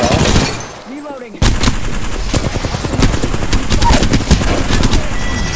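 Rapid automatic bursts from a Flatline rifle in the shooter game Apex Legends crackle loud and close, with dense repeated shots packed together after a brief quiet moment, and a voice speaks faintly in the mix.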